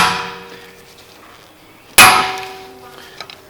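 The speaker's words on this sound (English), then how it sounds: "holding it counterclockwise, and then just hit it with the hammer." A hammer strikes a tool fitted on a brake rotor retaining screw of a 2018 Volkswagen Atlas during front brake work, giving one sharp, loud metallic clang that rings and fades over a second or so.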